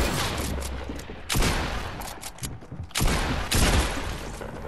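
Gunshots in the video game Fortnite, several loud, sharp bursts spaced a second or two apart with game ambience between them.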